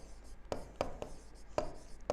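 Chalk or marker writing on a classroom board, a handful of sharp taps and short strokes in an irregular rhythm, close and fairly quiet, with no talking.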